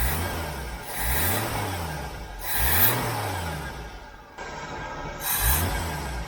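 A Jeep CJ-7 engine fitted with a Weber 32/36 carburetor runs strongly, revving up and settling back in a repeating rise-and-fall rhythm with several distinct throttle blips.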